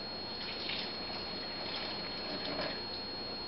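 Water poured from a warm tap into sourdough bread dough, a steady soft trickling stream running evenly and close throughout, alone without any talking.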